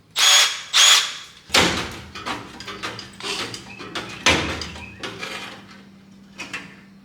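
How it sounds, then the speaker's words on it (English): Several short bursts of a power drill drilling out spot welds in car sheet metal during rust repair, loud and close, stopping and starting with clattering metal handling between them. "So I'm going to get the drill out, and we're going to bust some spot welds"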